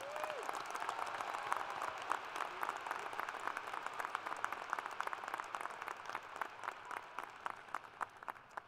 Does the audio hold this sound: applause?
yes